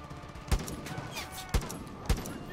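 A gun fires three sharp, distinct shots about a second apart in Far Cry 5, over a low game background bed, with no talk during the shots.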